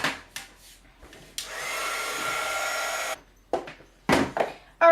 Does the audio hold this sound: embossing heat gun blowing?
yes